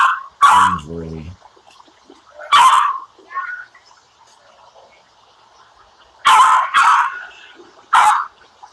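Several sharp dog barks come in short bursts, one pair near the start and a few more later, with a short whine between them and quiet gaps in between. No one speaks.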